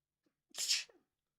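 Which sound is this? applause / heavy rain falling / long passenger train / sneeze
sneeze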